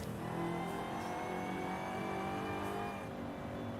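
A supercharged car in Forza Horizon 5 accelerates with a loud, steady engine roar overlaid by a rising high-pitched supercharger whine, heard continuously and close, with no voices.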